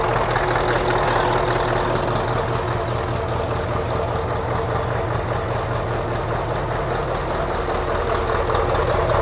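A Scania 144 truck with a custom exhaust idles in a continuous low, throbbing rumble that stays steady and close from start to finish, with no talking.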